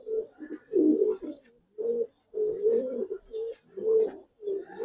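Giribaz pigeons coo close by in a steady series of soft, throaty, rolling calls with brief pauses between them and no talk.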